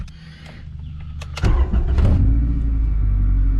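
A Honda B-series VTEC engine cranks with a few clicks and a brief starter whirr, catches abruptly, then settles into a loud, steady idle up close.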